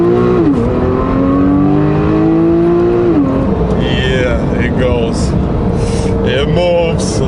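A Mercedes S550 accelerates hard from first gear, its engine note climbing steadily in pitch through a single rising pull before easing off, loud and close, with people talking over the latter part.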